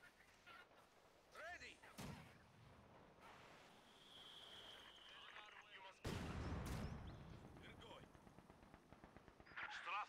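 Machine gun fire in the Company of Heroes 2 strategy game on a battlefield, heard as bursts of rapid shots and booms that are fairly distant and faint, with game voice lines among them.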